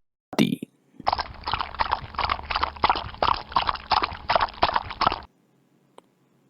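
Horse hooves clip-clop in a quick, even rhythm for about four seconds, loud and close, after a short opening thump and before falling silent.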